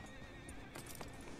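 A horse whinnying in the video game Red Dead Redemption 2, a faint wavering neigh over soft clip-clop hooves and low background ambience.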